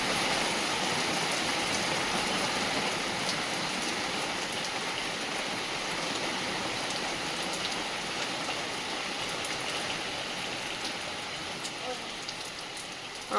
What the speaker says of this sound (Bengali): বিশাল জোরে বৃষ্টি এলো।